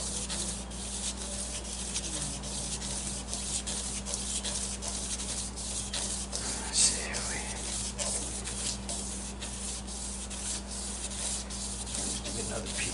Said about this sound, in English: We're just sanding that away.